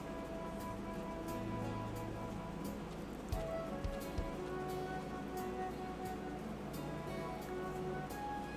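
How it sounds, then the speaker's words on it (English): Light rain showers in the video game Legend of Heroes: Trails of Cold Steel III, a steady soft patter of rain over a continuous ambient bed, with a few brief louder knocks partway through. "light rain showers came and went"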